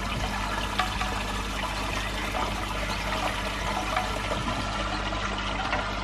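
Water steadily trickling and splashing as a koi pond is filled through a carbon filter, a continuous, fairly quiet rush with small splashes and no speech.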